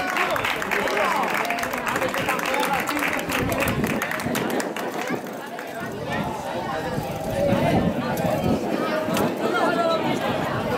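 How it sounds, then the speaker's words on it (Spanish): Outdoor crowd at a village kids' bike race in Sandoval de la Reina claps for the children, moderate applause mixed with chatter and voices, swelling toward the end. "Un aplauso para los niños"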